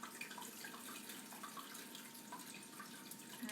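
Water pours steadily into an Instant Pot pressure cooker while ribs are being prepared, a continuous close hissing splash of liquid that runs unbroken for several seconds.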